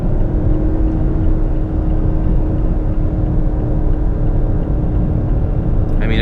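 A 2017/2018 Mazda 3 driven hard through a roundabout gives a loud, steady cabin drone of engine and road rumble throughout, with a faint brief sound near the end.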